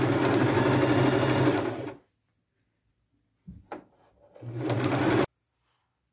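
A sewing machine stitches along the top edge of a patchwork top. It runs loud and close for two seconds, goes quiet, then hums briefly again, with soft handling noises in between.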